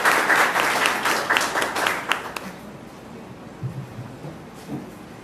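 Audience clapping at the close of a Spiritist lecture, fairly loud at first and then thinning into scattered claps and faint murmurs.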